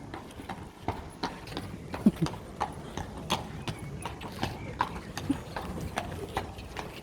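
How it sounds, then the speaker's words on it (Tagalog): Horse hooves clip-clop in a steady, brisk rhythm at moderate distance, with faint background noise and occasional louder hoofbeats. "Kabayo."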